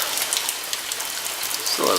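Heavy rain during Hurricane Harvey in Houston pours steadily in a dense, loud hiss of drops hitting surfaces, with wind noise close to the microphone.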